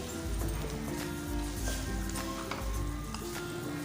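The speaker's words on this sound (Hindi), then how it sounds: "मसाला भूनते हुए 1 मिनट हो गया है" Masala of salt, red chili powder and coriander powder frying in a pan for an arvi chicken curry, a steady close sizzle with soft clattering and background tones running continuously.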